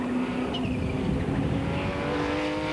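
The Darien T90 GT, a race car built by Tim Duffy and engineered by the Swansea Institute of Engineering, races at Croft in the 1997 BRDC GT championship, its engine a loud, continuous droning roar that shifts slightly in pitch as it passes.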